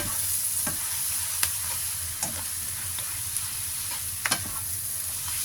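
Instant noodles with mussels and a spoon of sugar are stir-fried in a pan, giving a constant hissing sizzle broken by sharp scrapes and clinks of the spatula, with no talk.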